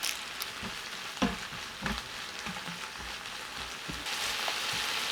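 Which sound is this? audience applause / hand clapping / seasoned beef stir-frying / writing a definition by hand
seasoned beef stir-frying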